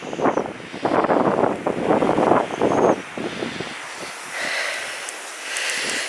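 Blustery wind on an autumn hill walk at Dolebury Warren hill fort buffets the microphone in heavy, rumbling gusts for the first few seconds, then eases to a softer, airy rush.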